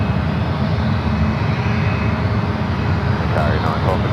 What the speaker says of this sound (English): Got a United. I believe this is an A320 heading our direction over here.